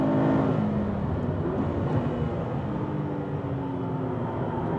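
Car lapping a race circuit during an endurance test of Initial D engine oil: a loud, steady engine drone close by, with a dense whir and no talking.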